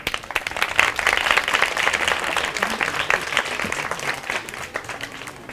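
An audience applauds the candidates of a children's contest, a sustained wash of many hands clapping together, fairly close and steady.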